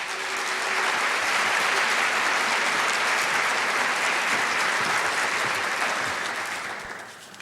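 Dense, loud applause from a large audience at a summit keynote fills the space, holding steady for several seconds before tapering off at the end, with no talk over it.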